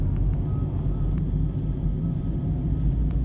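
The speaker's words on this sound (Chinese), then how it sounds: "公车捷运的声音啊" Buses and MRT trains pass near a bridge over the Xindian River, a steady low rumble of heavy traffic filling the air throughout at moderate loudness, with no speech.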